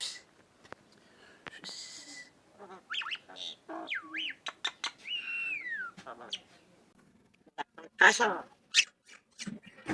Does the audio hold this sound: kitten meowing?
no